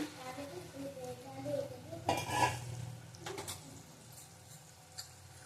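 Spice masala for a prawn and taro dish sizzles in a pan after a little water is added, with a quiet crackle, a brief burst of hiss and the scraping of a stirring spoon.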